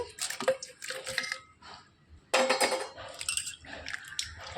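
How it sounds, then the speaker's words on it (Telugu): Bitter gourds being washed by hand under water in a kitchen, heard as close, intermittent bursts of splashing and dripping with brief quiet gaps between, and no talk. "ఈ కాకరకాయని కొంచెం శుభ్రం చేసేసుకోవాలండి కడిగేసుకోవాలి"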